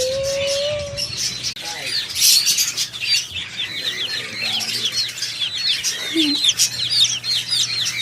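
Baby chicks peep in a steady, busy chorus of high, thin chirps from several birds close by, with a few lower clucks and some wing flutter mixed in.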